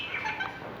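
Birds call in a forest with a few quick, faint chirps over a soft background hush, brief and somewhat distant.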